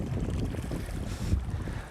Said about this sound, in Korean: 네, 물소리